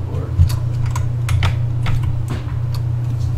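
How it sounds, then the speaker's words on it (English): Typing on a computer keyboard during a PC build at a LAN party, a scatter of sharp key clicks in uneven rhythm over a steady low hum. "So like then you press a key."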